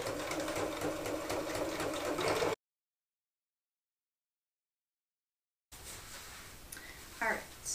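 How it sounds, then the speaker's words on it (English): A sewing machine runs steadily while stitching down a pocket layer on a purse organizer insert for a tote bag. It hums close and continuous, stops into silence, then starts again with a rougher whirr. "you're going to stitch down that pocket layer to create those individual pockets"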